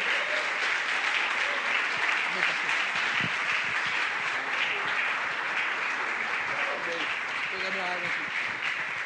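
A church congregation claps at length after a preacher's sermon, a steady broad patter of applause with faint voices mixed in underneath.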